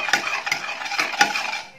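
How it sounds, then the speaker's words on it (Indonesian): Spices being stirred as they sauté in Blue Band margarine in a pan for sambal goreng kentang, with a spoon scraping and clinking against the pan at an uneven rhythm over a soft steady sizzle, close and fairly loud. "kita tumis deh bumbunya pakai blue band"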